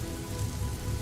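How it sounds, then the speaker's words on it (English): Rain drums softly and steadily on the rooftops of a small town at night, an even, close hiss of many drops with no voices. "Rain drummed softly against the rooftops of a small town"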